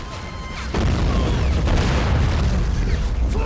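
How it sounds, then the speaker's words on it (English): Artillery shells exploding in the WWII strategy game Men of War: Assault Squad, a sudden heavy boom that kicks in and rolls into a sustained, loud, crackling barrage of blasts. "As you can see, artillery is still keeping my infantry busy"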